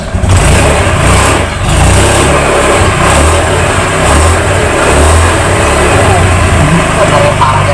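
A motorcycle engine revs loudly and roughly up close, its droning growl rising and falling in continuous bursts that fill the whole stretch.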